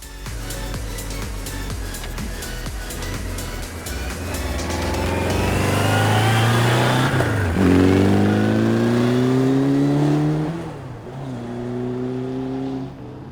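A 1999 Kawasaki Ninja ZX7R motorcycle, running on its reserve fuel tank, revs up steadily as it accelerates. The engine pitch climbs through several gear changes, grows loud midway, then eases off near the end, with no talking.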